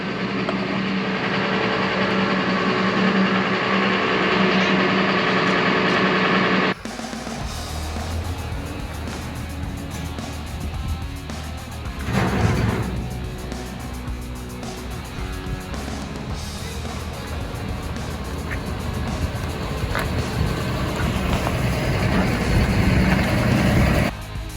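A John Deere farm tractor engine runs loud and steady the whole time during a hay-bale tractor challenge on a farm, its tone shifting abruptly a few seconds in and then droning on with small surges.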